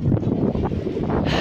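Steady, loud wind buffets the microphone on San Juanico Bridge with a continuous low roar, no other clear sounds standing out.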